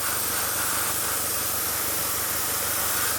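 Steady, close hiss of compressed air from an SG-100 0.3mm airbrush spraying paint in thin lines, continuous and unbroken for the whole stretch with no talking.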